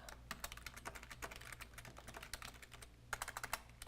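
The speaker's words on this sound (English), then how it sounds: "here is where we type our long series of things that Harry is just babbling out" Steady typing on a computer keyboard while writing a script, with quick irregular key clicks and occasional heavier strokes, close and quiet with no voices.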